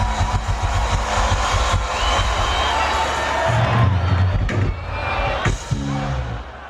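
Festival crowd at an outdoor concert by a Kenyan quartet in Goma, rain-soaked but fired up, roaring and cheering in a dense continuous wash with low rumbling underneath and a few louder swells.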